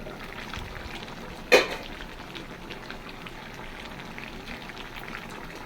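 Tea simmers on a stove with a faint, steady bubbling hiss, broken once by a single sharp click.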